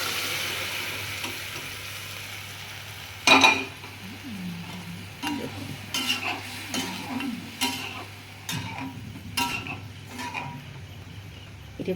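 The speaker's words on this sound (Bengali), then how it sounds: "আমি কাবলি ছোলাটা সিদ্ধ করে কুকারে রেখে দিয়েছি, আমি এর মধ্যে ঢেলে দেবো।" Boiled kabuli chickpeas tumble into hot oil-released masala in a pan, with a loud splash and sizzle followed by repeated scraping stirs and soft clinks of a spoon against the pot.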